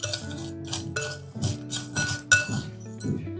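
Metal spoon clinking against a glass container while stirring three ingredients into a muscle-relief oil, a run of bright repeated taps in irregular bursts, close and clear with no talking.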